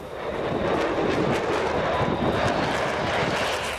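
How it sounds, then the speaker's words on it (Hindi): Greek fighter jets flying over the sea make a loud, sustained engine roar with a broad rushing texture that holds steady throughout. "इन जहाजों के अलावा ग्रीस के लड़ाकू विमान भी समंदर के ऊपर उड़ते नजर आए।"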